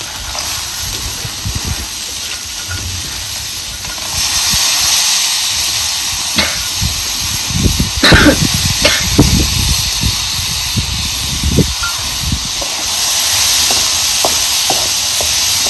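Washed cowpeas go into a hot pan and set off a loud, hissing sizzle, broken by scattered clatters and pops as they are tossed and stirred.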